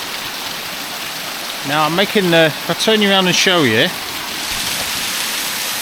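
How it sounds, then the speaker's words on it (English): A waterfall rushes close by, a steady broadband roar that fills the whole clip while someone talks over it for a couple of seconds. "I'm actually I'm set up a lot closer to the waterfall this time."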